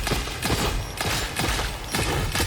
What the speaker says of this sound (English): It's a nice sounding gun.